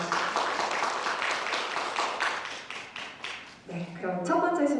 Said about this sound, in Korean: 자리를 빛내주신 내빈 여러분께 다시 한번 큰 박수 부탁드립니다